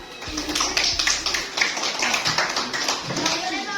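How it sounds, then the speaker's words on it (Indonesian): A group claps in a classroom-style setting, uneven bursts of hand claps over a low hum, with voices present in the background. "tepuk tangan"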